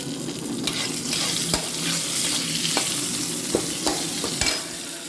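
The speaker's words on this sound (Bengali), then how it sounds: "এখন টমেটোটা ভাজা হয়ে গেছে" Tomato fries in a pan while being stirred for a hilsa dish, a loud, steady close sizzle broken by sharp scrapes and taps of the spoon against the pan.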